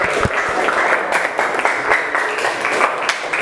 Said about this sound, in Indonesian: Kasih tepuk tangannya untuk kelompok pertama.